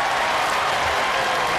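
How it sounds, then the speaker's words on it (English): A studio audience applauds a robot combat championship final, steady dense clapping and cheering filling the whole stretch at moderate loudness with no voices over it. "a round of applause from the Dan Tomke sporting side"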